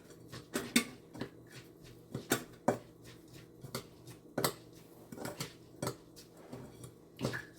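Fried rice with shrimp, egg and chicken is stirred in a pot, a utensil scraping and clinking against the metal in irregular knocks every half second or so, close and moderately quiet, no talking.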